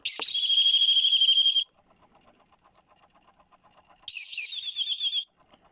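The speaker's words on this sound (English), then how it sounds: "9 o'clock is the blue tit." At nine o'clock a British bird clock plays a recorded blue tit call: a bright, fast chirping burst, a quiet gap with soft pulsing, then a second shorter chirping phrase, close and clear.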